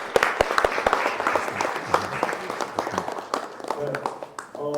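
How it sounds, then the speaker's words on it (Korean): Applause at a shared-growth forum, a crowd of individual claps sounding close and uneven at first and then merging into a softer patter, with a voice speaking near the end. "다시 한번 박수 부탁드립니다."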